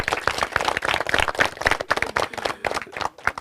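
An audience claps at a well inauguration ceremony at a middle school in Senegal, with irregular bursts of hand claps from a nearby crowd that rise and dip over a few seconds.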